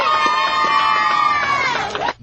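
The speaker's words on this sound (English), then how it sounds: "Dozens of fans cheering for their champion, fresh off the plane from New York" A crowd of fans greets a returning undefeated boxing champion fresh off the plane, voices cheering and shrieking loudly all at once, the din holding steady before cutting off abruptly at the end.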